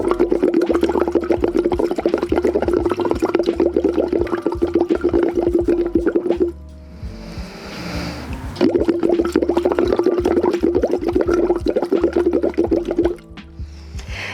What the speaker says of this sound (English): Once you've done the voiceless bubbles